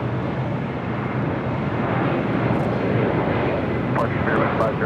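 A Spirit Airlines jet departs from LAX during east-flow operations, its broadband engine roar steady and loud for the whole span, with some faint higher sounds near the end.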